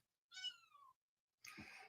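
A cat gives two separate meows, the first a clear rising-and-falling call and the second a shorter, rougher one after a pause, close and fairly quiet.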